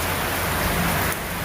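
Heavy, torrential rain pouring at night after hours of downpour, a dense, loud, continuous roar of water with no voices.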